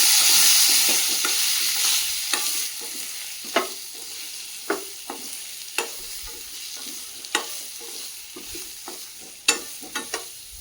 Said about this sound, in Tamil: ஆட் பண்ணிவிட்டு நம்மளோட பேபி பொட்டேட்டோவை இதில் மிக்ஸ் பண்ணிக்கலாம்.